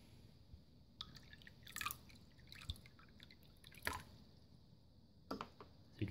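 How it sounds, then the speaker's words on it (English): Water trickling and dripping into an automatic pet water bowl as it is poured back in, faint and close, with a few brief splashy bursts between quiet stretches. "I will just pour the water back in"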